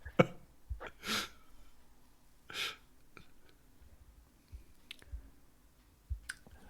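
Two short sneeze-like bursts stand out in a quiet room, surrounded by soft clicks and faint breaths.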